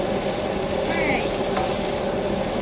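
Fried rice with fruit frying and being stirred in a pan, giving a steady close sizzle with faint scraping of a utensil throughout.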